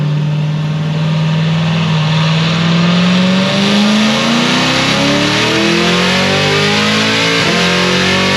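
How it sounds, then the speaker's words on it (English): A supercharged C7 Z06 Corvette with a Magnuson supercharger accelerates hard, its loud, close engine note climbing steadily before dropping sharply at an automatic upshift near the end, with no talk. "I'm gonna do an auto upshift to make sure it shifts good"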